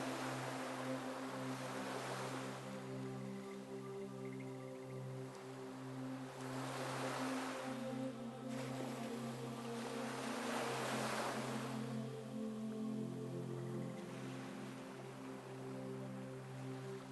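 Ocean waves surge and recede in slow swells, each wash of surf building and fading over several seconds, with a steady low hum running underneath throughout.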